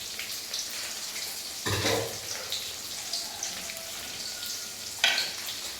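A steady crackling sizzle of tomatoes and green chillies sautéing in a pan, with a couple of brief louder bursts of hissing and clatter.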